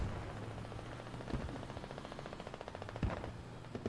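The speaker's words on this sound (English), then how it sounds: "I hear a BRDM shooting off." An armored BRDM vehicle fires rapid automatic bursts at a distance in a military video game. The rattling volleys are fairly faint, with a couple of sharper distant impacts mixed in.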